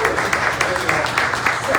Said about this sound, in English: I'll give them a hand clap.